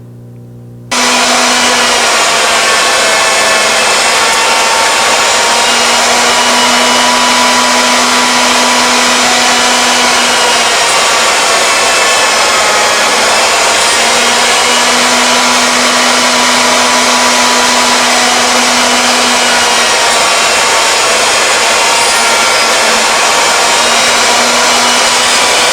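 A loud, steady high-pitched whine of a router milling wood with a surface planing bit while shaping a table lamp, a continuous machine roar with a faint tonal hum rising and falling, near and with no speech.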